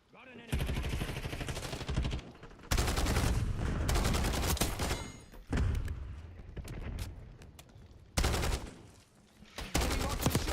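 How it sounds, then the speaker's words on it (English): Rapid bursts of video game gunfire from an enemy marksman, loud sustained volleys broken by short pauses, with a voice calling out over the shooting. "Enemy marksman shooting!"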